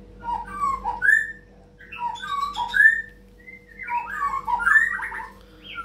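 A caged murai (magpie robin) songbird sings clear, loud whistled phrases in three bursts, rising and falling notes with short trills and pauses between, close by over a faint steady background hum.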